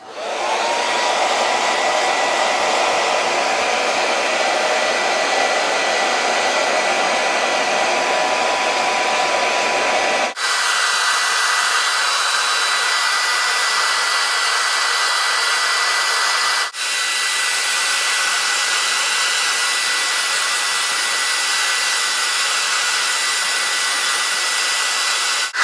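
A hair dryer blowing a short platinum-blonde pixie cut forward, producing a loud, steady, close whooshing roar that holds throughout, with two brief dips where the setting or position shifts.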